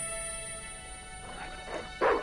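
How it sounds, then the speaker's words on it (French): A dog barks in the point-and-click adventure game Broken Sword 2, two short yaps rising near the end, the second louder, over a steady game background hum. "C'est un bon toutou, ça."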